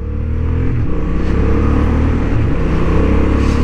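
A Honda Hornet 750 motorcycle engine drones loud and close on a racing track, holding a steady high-rev roar with brief dips as gears shift.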